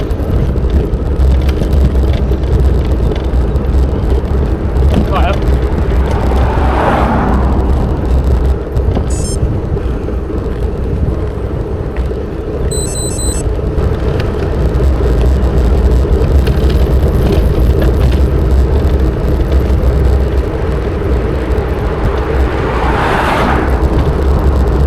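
Road traffic rumbles steadily past a bicycle commuter riding through countryside in Buckinghamshire, a constant loud low roar with vehicles swelling closer at intervals and no talking.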